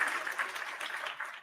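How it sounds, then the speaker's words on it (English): A studio audience claps in a brief burst of applause, an even wash of many hands at moderate loudness. "Round of applause."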